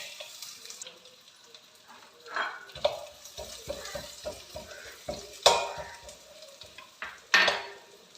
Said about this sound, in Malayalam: നമുക്ക് 2 ടേബിൾ സ്പൂൺ നെയ്യ് ഒഴിച്ച് കൊടുക്കാം. ഇതിലേക്ക് അരിഞ്ഞു വെച്ചിരിക്കുന്ന തേങ്ങ ഇട്ട് കൊടുക്കാം.